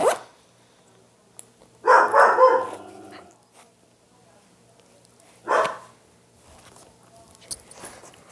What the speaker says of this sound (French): Désolé pour ce jappement, c'est mon chien.